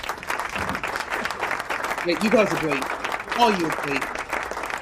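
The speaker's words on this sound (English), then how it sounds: "applause for all you." A studio audience at a 100th-episode show applauds steadily while a voice talks and cheers over the clapping.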